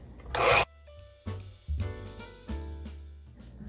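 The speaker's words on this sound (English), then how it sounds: "So you want to cream it together really well." Butter and sugar are creamed for gluten-free chocolate chip cookie dough, giving close rubbing, scraping strokes in repeated bursts with brief pauses between them and no talking.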